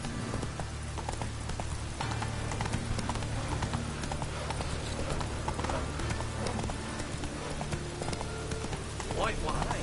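In The Witcher 3: Wild Hunt, a horse gallops through rain, with quick, steady hoofbeats over a constant patter of falling rain and occasional voices.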